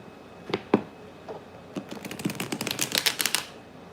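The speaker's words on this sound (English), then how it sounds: "One more shuffle." Tarot cards being shuffled close up: scattered soft taps at first, then a quick rippling flurry of crisp snaps before it stops.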